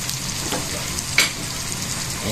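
Bagoong shrimp paste frying with pork in a pan, a continuous close sizzle with stirring scrapes and one sharper clink.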